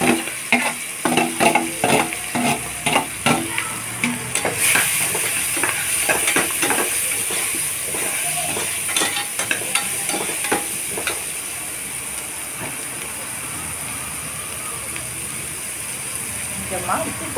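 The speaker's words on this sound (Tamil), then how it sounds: "இப்போ வந்து பச்சை மிளகாய் வெங்காயம் கருவேப்பில எல்லாத்தையும் போட்டு நல்லா வதக்கணும்" Green chillies, onion and curry leaves sautéing in a pan after mustard seeds have popped: loud hissing sizzle under rhythmic scraping stirs near the start, then a steadier crackle, with a voice talking at times.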